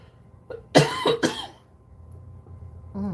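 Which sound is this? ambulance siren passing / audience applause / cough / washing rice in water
cough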